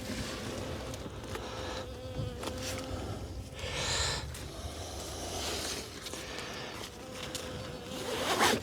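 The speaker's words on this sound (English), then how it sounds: "you're just flying around me" A honeybee buzzes around a beekeeper working an open hive, its faint whining drone rising and fading as it circles close, with light rustling and handling noises in between.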